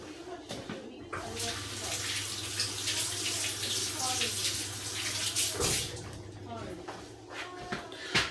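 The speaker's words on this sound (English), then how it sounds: "Give these a quick rinse." Three carrots are rinsed under a running tap, a steady stream of water splashing close by for most of the stretch, with brief handling sounds and a pause near the end.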